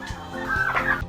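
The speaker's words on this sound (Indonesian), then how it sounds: "Kalkun akan berkokok dengan suara yang unik untuk menarik perhatian pasangan." A male turkey on a farm gives a single loud, close gobble, a rapid warbling burst lasting about a second with no other sounds around it.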